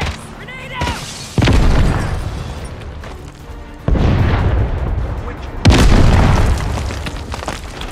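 Grenade blasts from Call of Duty: Modern Warfare III multiplayer, played on PS5: three loud, booming detonations spaced a few seconds apart. Each one rolls into a long rumbling tail, and game voice callouts and gunfire sit underneath.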